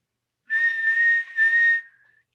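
A person whistles a clear, loud held tone in two close phrases, the second tapering off into a short fading tail, with no speech.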